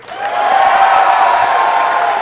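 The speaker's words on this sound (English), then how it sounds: "Please, another round of applause for Troy Baker." Audience at a live comedy show, Kinda Funny Live 2015, applauding and cheering loudly and continuously, a dense steady wash of clapping with a few whoops throughout.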